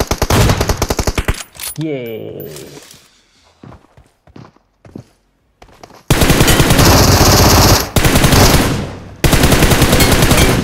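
Automatic gunfire in the mobile battle royale game BGMI, loud bursts and sustained rapid fire in the second half after a quieter stretch of softer effects, with a brief spoken word near the start.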